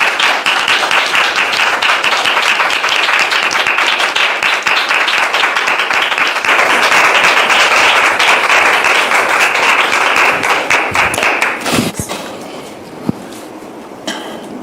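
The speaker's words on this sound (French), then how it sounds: "Sous vos applaudissements." A television studio audience applauds loudly, with dense, sustained clapping lasting over eleven seconds before it tapers into a few scattered claps and quieter room noise.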